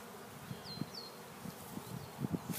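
Honey bees buzz around an open hive during a spring hive inspection, a faint steady hum with a few soft thumps and brief high chirps.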